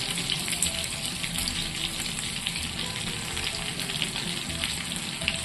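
Prawns for crispy prawn 65 fry in hot oil with a dense, steady crackling sizzle, close and continuous throughout, with no voices.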